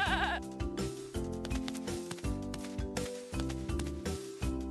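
Goat bleating at a children's carnival feeding game, several short wavering bleats over a busy backdrop of music and layered sound, fairly close and loud throughout.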